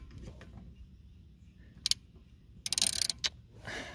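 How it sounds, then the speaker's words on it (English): Ratchet turning a 13 mm socket on a hub puller while pulling a BMW E30 front hub, clicking in short faint bursts, one brief burst midway and a longer rapid run of clicks near the end, close and otherwise quiet. "I'm gonna take my 13 mil socket and my ratchet"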